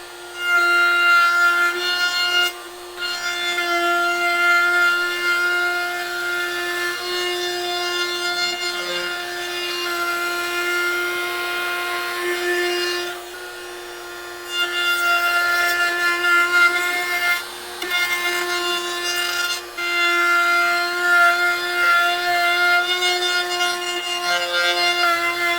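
A router cuts a round-over profile along the edge of a wooden cabinet end panel, giving a loud, steady high-pitched whine that runs continuously with a few brief dips as the cut proceeds.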